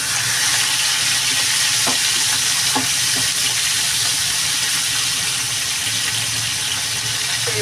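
Hilsa fish frying in a pan, with a dense, loud, continuous sizzle and a few brief scrapes and knocks as a piece is flipped, heard close with no speech.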